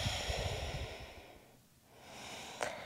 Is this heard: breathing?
yes